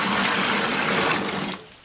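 Hot water from a cooking pot pours steadily into a cooler while tacos de canasta are prepared for sale, a continuous close gushing splash that tapers off near the end.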